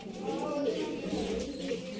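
Flying pigeons cooing in soft, low repeated coos close by, under a steady hum of background noise while someone talks.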